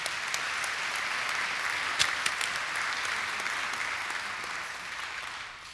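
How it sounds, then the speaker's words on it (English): Audience applause at a homeowners' association meeting, a moderate, even patter of clapping hands with a few sharper individual claps standing out, fading slightly toward the end. "A round of applause to you."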